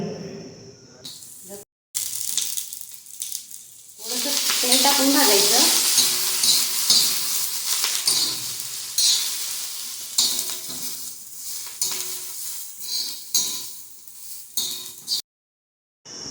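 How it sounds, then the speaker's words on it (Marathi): A small amount of onion sautés and is stirred in a pan, giving steady loud sizzling with scraping stir strokes through most of the stretch, broken by brief gaps, with occasional voice underneath. "थोडासाच कांदा घालून मी हा व्यवस्थित भाग असा म्हणजे त्याचा काळपटपणा जाईस थोडासा परतून घेणार आहे"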